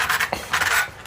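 Arrma RC car drivetrain spun by hand, giving a loud gritty whirring and scraping in two bursts with a short gap between, close up and with no voices.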